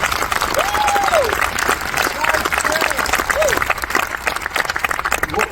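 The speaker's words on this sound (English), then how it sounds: "please, a round of applause" An audience at a film launch event in an IMAX cinema breaks into sustained applause, dense steady clapping filling the room, with a few cheers and whoops rising over it.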